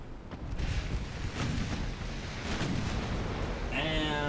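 Nine-inch guns on a heavy cruiser boom in the Ultimate Admiral Dreadnoughts naval game, producing several heavy, rumbling blasts over a loud, constant battle roar.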